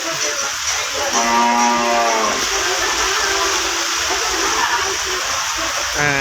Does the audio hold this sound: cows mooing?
yes